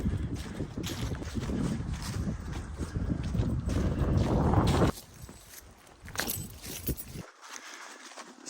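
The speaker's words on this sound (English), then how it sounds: "That wind hitting me makes it a little chilly." Wind buffets the microphone on a mountain ridge, roaring loud and close in gusts before dropping to a lighter, intermittent rush.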